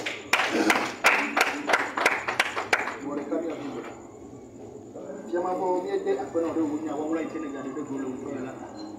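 A church congregation claps together in a steady rhythm, about eight sharp claps over the first few seconds, then the clapping stops and voices carry on speaking or singing.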